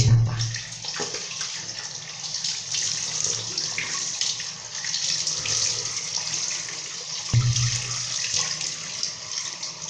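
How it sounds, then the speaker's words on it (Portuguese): Water runs steadily from a tap into a sink as someone rinses their face, a continuous close splashing flow with a couple of brief heavier gushes. "Agora eu vou enxaguar."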